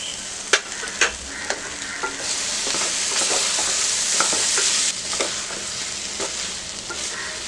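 French beans and soya chunks sauté in a pan for one-pot soya rice. A continuous loud sizzle carries sharp, repeated scrapes and knocks of a stirring utensil throughout.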